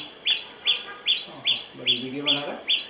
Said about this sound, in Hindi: एक दर्जी पक्षी से, जो अपनी तीखी आवाज और घोंसले बनाने की विशिष्ट कला के लिए जाना जाता है।